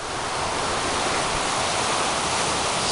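Rushing water of the Sand River in the woods, a steady, loud broadband roar like a waterfall or fast stream, continuous and unbroken from start to finish with no voices.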